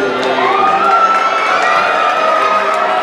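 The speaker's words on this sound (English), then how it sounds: "Give them a round of applause as well" A dense, loud crowd cheers and whoops with children shouting on the deck of the Disney Cruise Ship Fantasy, greeting the Disney princesses, a steady wall of excited voices throughout.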